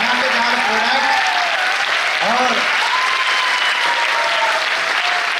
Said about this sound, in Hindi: तो चलिए एक बार जोरदार तालियों के साथ वेलकम करते हैं प्रोडक्ट